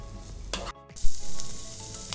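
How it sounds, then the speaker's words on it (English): Drained sweet corn is stirred through hot butter in a pan, with a close, bright sizzle, a brief gap, then a louder burst of spattering and spoon scrapes as mixing continues, with no talking. "to the butter we'll add our drained corn. After adding the corns, once mix it"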